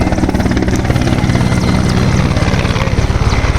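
A helicopter passes overhead above flooded Vijayawada, its rotor chop loud, steady and close, pulsing throughout with no voices.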